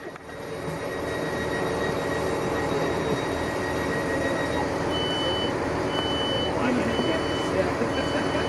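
A crowded Settle and Carlisle line passenger train, the Carlisle to Leeds service, stands at Appleby station on a damp grey day, its engine droning steadily with faint warning tones and rail noise close by.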